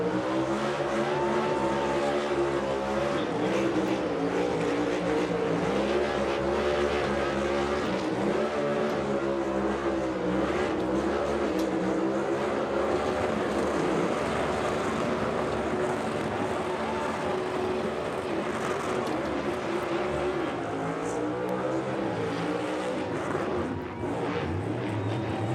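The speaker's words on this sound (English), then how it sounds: "Good burnout, too." A NASCAR Cup Series race car doing a burnout at Watkins Glen, a loud sustained engine roar with wavering revs and tire noise running continuously throughout.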